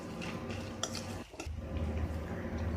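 A utensil scrapes and clinks against a pan as oats upma with salt is stirred, a quiet, intermittent sound over a faint background hum.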